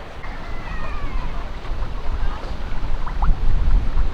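A boat pulls away from its mooring at Hampton Court Palace on the River Thames, with a steady low rumble of the hull moving through water under gusting wind noise that builds slightly toward the end.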